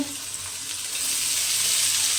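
Onions and spring onions fry in a pan, giving a continuous bright sizzle with faint stirring, holding steady and growing slightly louder toward the end.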